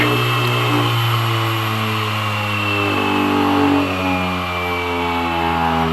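An opened early Seagate Barracuda 7200 RPM hard drive spins loudly, a steady whining hum with strong layered tones and a shifting higher pitch near the end, close and continuous without any talk.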